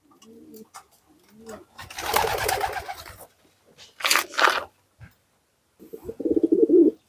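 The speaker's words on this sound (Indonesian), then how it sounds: "Nah, itu contohnya merpati saya ya. Ini giringannya bisa bagus." A pet pigeon coos during its courtship display, with several soft, throaty rolling coos close by, separated by brief pauses and a louder burst of fluttering noise in the middle.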